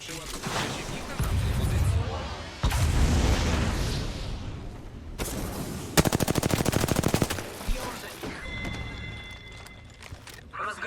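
Automatic gunfire from Apex Legends, with dense bursts and a sharp rapid-fire stretch in the middle, loud and up close amid other game sounds, while people talk over it.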